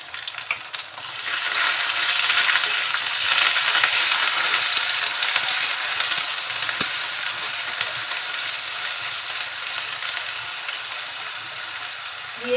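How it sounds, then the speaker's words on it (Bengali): Ginger and garlic paste fries in hot oil with reddened onions while being stirred, producing a loud, continuous sizzling hiss with faint scraping that eases slightly over time, and no voices. "তেলের সাথে মশলাটা খুব সুন্দরভাবে কষিয়ে নিব, যাতে মশলার কোনো কাঁচা গন্ধ না থাকে।"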